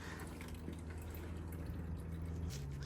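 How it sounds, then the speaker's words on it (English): Engine oil drips from the drain of a 2007 Mazda MPV 2.3 petrol automatic during an oil change, as quiet, faint drips over a low steady hum. "That's still dripping a bit."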